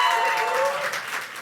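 An audience at an affordable housing event cheers and applauds loudly, a dense wash of clapping that stays strong and then eases off slightly.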